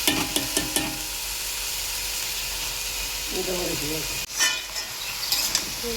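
Mixed vegetables (cabbage, beans, potato, eggplant and bottle gourd) frying in a pan give a steady close sizzle with scattered clinks of stirring, and a voice murmurs briefly partway through.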